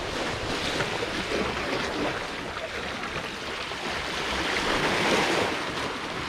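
Strong ocean waves wash in as a broad, steady roar, close and loud, with gusting wind buffeting the microphone throughout.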